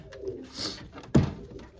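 Pigeons give soft coos as their loft is opened, followed by a sudden close thump or flutter, with light rustling around.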